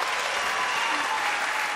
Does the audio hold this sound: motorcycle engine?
no